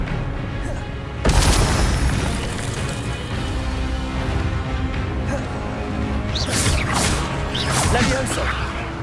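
Spell casting in the video game Hogwarts Legacy, with a sharp booming blast followed by whooshing, crackling magic bursts and rumbling impacts, loud and continuous with spoken incantations over it.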